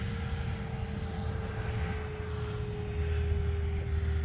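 An FMS P-47 Razorback RC model airplane flies overhead, a faint, steady electric motor drone holding one tone for several seconds against outdoor background noise.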